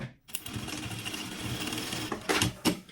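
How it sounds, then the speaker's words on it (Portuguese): A sewing machine runs steadily, stitching a seam on sublimated fabric pieces for a baby maternity kit. The close, continuous whir starts after a brief pause and carries through, with a few louder bursts near the end. "vou fazer essa mesma costura"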